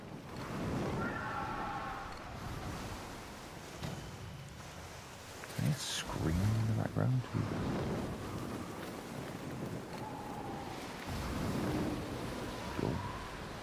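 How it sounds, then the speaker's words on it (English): Ocean waves crash and surge in a wind-blown sea in the pirate game Skull and Bones, a rough continuous wash with louder swells, heard beneath someone talking. "Waves again, intense, man."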